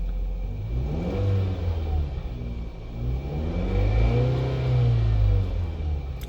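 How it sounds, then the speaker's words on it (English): A Jeep Compass engine with a newly installed throttle body revs up and eases back down in steady swells, loud and close, with a low rumbling idle between rises. "we're gonna turn it on, and it revs up, and then it revs down"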